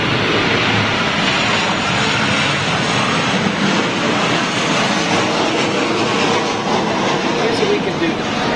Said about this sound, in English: So here's WestJet 737.